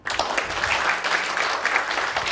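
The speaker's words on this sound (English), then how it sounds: "Please, Ibu Deng, we give a big applause." Steady audience applause fills a workshop session on interfaith peacemaking, dense and sustained clapping from a crowd close by with no talk over it.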